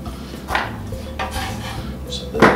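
A kitchen knife chops an onion on a board for pineapple salsa, meant for Caribbean fish tacos, giving a few sharp cuts close by over a steady low background hum, with no talking.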